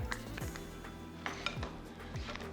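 Sliced apples being tossed with lemon juice in a bowl, giving soft repeated clinks and knocks of utensil against bowl at close range, quiet and without talk.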